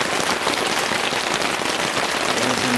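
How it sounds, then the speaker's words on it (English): Heavy Pacific Northwest coastal rain pounds steadily on a tent, a dense, loud, unbroken patter filling the whole stretch with no voices. "I'm talking marbles on a metal roof is what this rain is like, and it will not stop."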